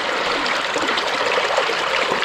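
Water rushes through a cleared beaver dam on a river, carrying sand off the bed, in a steady, close, loud gushing flow with constant bubbling texture and no voices.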